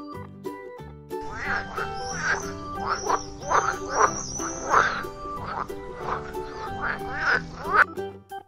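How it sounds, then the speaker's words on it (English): A frog croaks repeatedly in short, raspy bursts at a close, irregular rhythm, with a soft musical backing underneath. "Frog."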